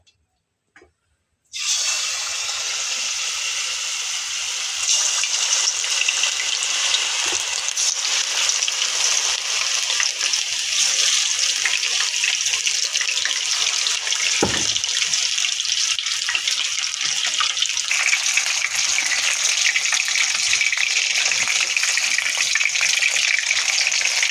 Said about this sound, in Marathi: आता आपण हे लॉलीपॉप तळून घेऊयात।